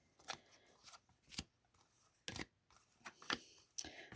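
Tarot cards being shuffled for a reading, heard as several short dry riffling bursts spaced irregularly, fairly close and quiet, with no talking.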